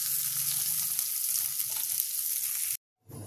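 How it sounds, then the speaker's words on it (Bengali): Paneer fries in a pan with a bright, even sizzle that holds steadily, then cuts off abruptly near the end before a brief return. "পনিরটা আমাদের ভাজা হয়ে গেছে, এবার আমি তুলে নেব।"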